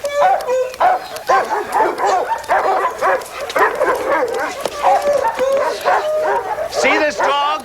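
A purebred dog barks and yips repeatedly, loud and close, in quick irregular bursts through the whole stretch, with people talking around it.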